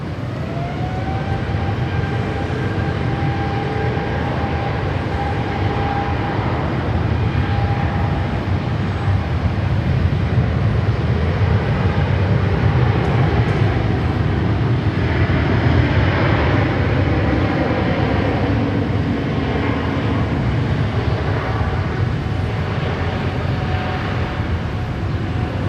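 A Vietnam Airlines plane departs Sydney Airport for Ho Chi Minh City, a loud, steady jet engine roar with a broad rumble building and holding for about twenty-five seconds, heard from outdoors.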